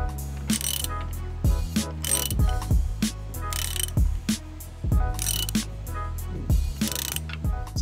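A ratchet wrench tightens a coil spring compressor on a coil-over suspension strut, loud close rapid clicking in repeated bursts separated by short pauses as the spring coils are squeezed together.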